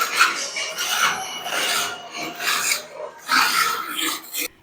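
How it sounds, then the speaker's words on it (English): Harsh rasping scrapes from old latex paint being scraped off a wall, in loud irregular strokes one after another, close and alone with no talking. "we scraped, but the sound of the scraping overpowered the microphone"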